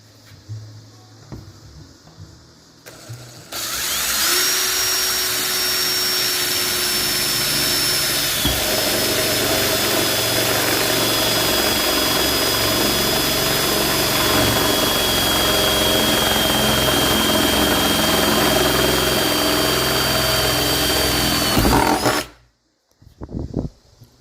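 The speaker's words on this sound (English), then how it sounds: "we're going to drill one hole, and we're going to pause it, and we're going to drill the rest." A power drill bores through 1968 Ford truck metal in one long, loud run of about eighteen seconds, starting abruptly and cutting off at the end, with a whining tone that shifts pitch partway through.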